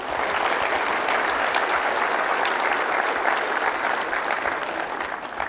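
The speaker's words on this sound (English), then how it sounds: "So could I please have a round of applause for all of our great sponsors here?" Conference audience at a PyTorch keynote gives sponsors a sustained round of applause, a broad, even wash of clapping from a large hall that fades slightly near the end.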